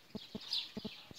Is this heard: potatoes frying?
no